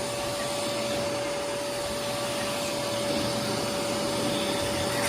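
A oneisall dog hair vacuum runs steadily while grooming a dog, a constant close whine with a fixed tone and an even rushing airflow, no voices over it.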